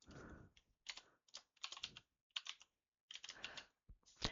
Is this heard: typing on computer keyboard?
yes